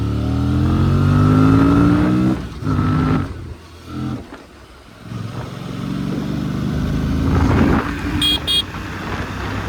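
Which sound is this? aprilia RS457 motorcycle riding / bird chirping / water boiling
aprilia RS457 motorcycle riding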